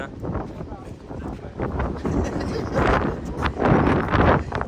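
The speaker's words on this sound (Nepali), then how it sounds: "चिसो ठन्डा ठन्डा हावा लागिरहेछ" Strong, cold sea wind buffets the microphone in loud, continuous gusts, with a broad roar like open water and no clear voices.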